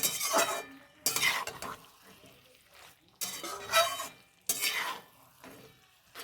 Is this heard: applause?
no